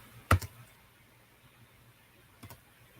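Two short, faint bursts of computer keyboard clicking, one near the start and one near the end, stand out against a quiet low background hum.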